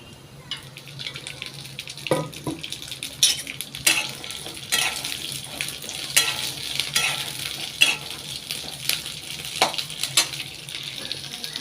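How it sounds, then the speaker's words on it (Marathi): Green chillies and garlic roast in oil in a pan for thecha, with a soft sizzle, scattered clinks and scraping stirs, and occasional louder knocks. "तर आपण हे छान सगळं भाजून घेणार आहोत"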